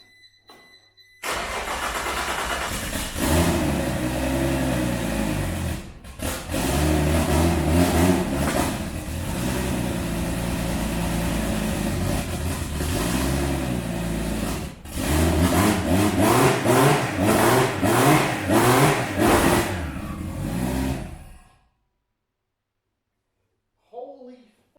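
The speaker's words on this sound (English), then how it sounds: "With this fixed, let's see if the car will start." A rebuilt 600HP RB26 engine cranks and catches on its first start, then runs roughly with repeated blips of revs for about twenty seconds before shutting off, loud and close; a brief voice follows the silence.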